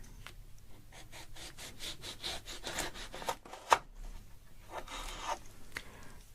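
Leftover lemon is rubbed back and forth across a wooden cutting board, producing soft, close, rhythmic scraping strokes, with one sharper scrape midway, in a quiet kitchen.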